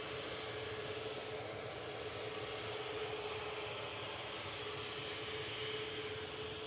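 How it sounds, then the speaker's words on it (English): A Ryanair jet arriving from Alicante touching down at Manchester Airport, a faint, steady distant roar of engines and rushing air with no talk over it. "Ryanair from Alicante touching down in the background"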